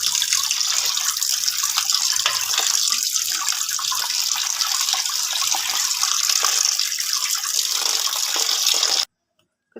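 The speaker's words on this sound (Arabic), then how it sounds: "ما تقوليش بقى كانت محطوطة في المية ولا مش هنغسلها، بنزلها تحت الحنفية" Bisaria fish rinsed under a running kitchen tap, a loud, steady gush of water that runs without a break and then cuts off abruptly just before the end.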